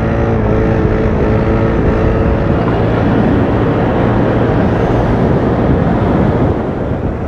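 A Piaggio Vespa 300 GTS scooter is ridden on the road, lifting into a wheelie. A steady engine drone sits under loud, constant wind rush that masks most of the engine throughout.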